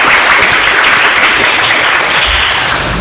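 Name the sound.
applause for the Semagosi podcast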